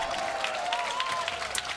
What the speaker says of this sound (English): I was hearing a cheer in the background there